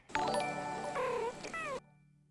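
A cat gives a few drawn-out meows in quick succession, close and clear, with wavering pitch, then falls silent.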